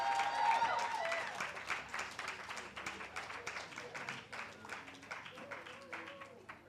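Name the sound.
applause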